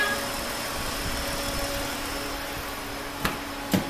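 A car engine idles steadily after a radiator flush and coolant change, a close, even hum with two brief clicks near the end as it is about to be switched off.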